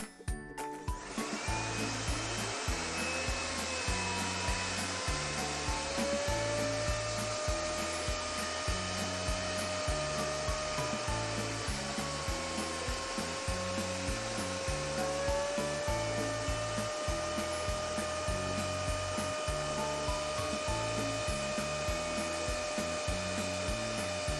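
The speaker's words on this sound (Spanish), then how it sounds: "Este blower será nuestro generador de viento." An electric blower serving as a wind generator runs continuously, a steady, loud whine and rushing airflow with a shifting tone and faint rhythmic rattling underneath.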